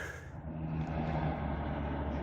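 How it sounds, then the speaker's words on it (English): Distant road traffic hums faintly in the background outside a shuttle bus, a soft steady wash of passing vehicles with no voices. "you can hear the traffic in the background"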